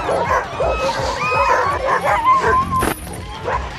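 Several sled dogs bark, yip and whine at once in an excited, overlapping chorus close by, with a person's voice mixed in.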